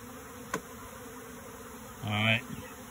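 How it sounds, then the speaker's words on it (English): A brief, close buzz of bees in a hive box from a captured swarm swells for a moment over a quiet background hum, preceded by a single faint tap. "I think there's bees in there."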